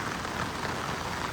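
Heavy rain pours steadily on the streets of Dholka, a dense, continuous hiss and patter close by with no talking.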